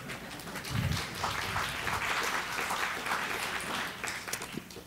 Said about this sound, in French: On peut applaudir, en effet.